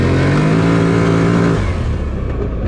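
A 2024 Gen 3 CFMOTO CFORCE ATV engine revs and pulls hard in high gear, loud and close, its steady drone easing off near the end.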